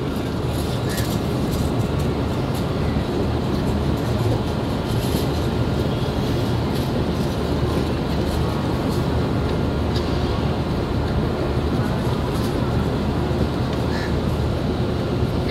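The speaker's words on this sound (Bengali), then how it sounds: "সাউথ ইস্টার্ন রেলওয়ের একটি লোকাল ট্রেন হাওড়া জংশনে ঢুকছে।" A South Eastern Railway local train rolls into Howrah Junction over crossings with a continuous low rumble and rattle of wheels, steady and fairly loud throughout, with faint higher squeals now and then.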